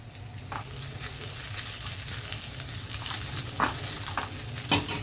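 Dried red chillies, curry leaves and coriander frying in a tempering pan, a steady close sizzle and crackle with a few sharper spits and pops scattered throughout.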